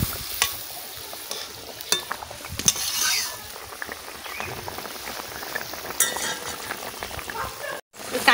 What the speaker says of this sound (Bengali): মাছ দিয়ে দিচ্ছি, ঝোলটা ভালো করে ফুটে গেছে।